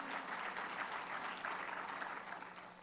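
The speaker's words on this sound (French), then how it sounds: "c'est le matin où on peut applaudir" A congregation applauds at a church service, a soft, even wash of many hands clapping at a distance, sustained without a break.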